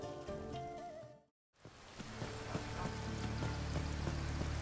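Steady morning rain in Falkreath, a village in the video game Skyrim: a dense, even hiss of rainfall that cuts out to silence for a moment, then returns and holds at a constant level.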